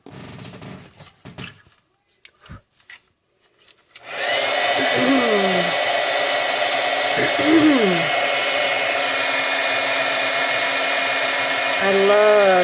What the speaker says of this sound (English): Just going to heat set that.